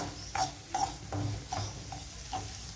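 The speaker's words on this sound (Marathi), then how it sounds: "रवा असा हलवत राहायचा, नाही तर खाली करपू शकतो" One cup of semolina stirred and roasted in hot ghee over medium heat, with a soft sizzle and about six rhythmic scraping strokes of a spoon against the pan, heard close.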